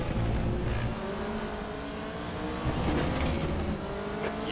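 A Group C prototype race car in RaceRoom closes in with a loud, steady engine drone and harmonic whine that builds slightly, with faint tire noise and no talking.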